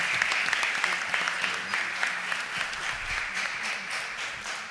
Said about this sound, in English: please give the ladies of Delta Sigma Theta Sorority Incorporated a round of applause